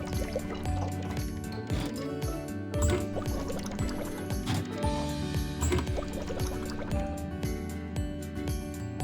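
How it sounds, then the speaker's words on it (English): Liquid gurgles and pours in repeated bursts over a busy, synthetic backdrop with game-like tones, steady and fairly loud throughout. "Pour engine fluid by color into tanks."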